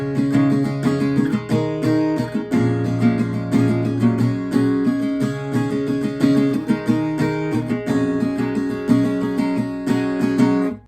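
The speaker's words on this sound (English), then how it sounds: "And the entirety of pre-chorus 1 would sound like this." Acoustic guitar with looped layers plays the full first pre-chorus of a song, a dense, continuous rhythmic strumming pattern held at an even volume throughout with no voices.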